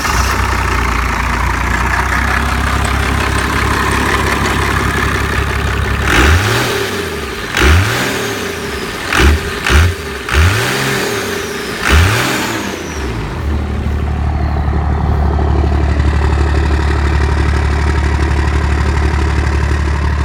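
A Cummins diesel engine in a car runs with a low steady drone, then revs hard in several quick bursts before settling back to a rough idle.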